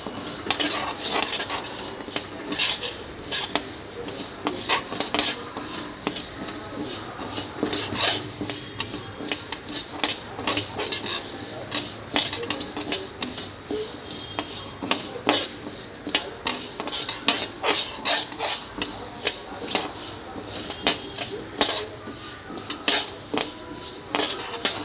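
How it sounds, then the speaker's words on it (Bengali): Mung dal dry-roasting in a pan in a village kitchen, stirred with a metal spoon that clinks and scrapes against the pan in frequent irregular strokes over a low steady background. "মুগ ডালটা ভালো করে ভেজে নিতে হবে।"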